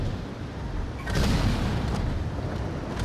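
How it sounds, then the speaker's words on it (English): A mech's cannon booms in the Vox Machinae VR game, a heavy blast landing amid a dense, rumbling battle din with fainter thuds and bursts around it. "Yeah, this cannon seems very fun."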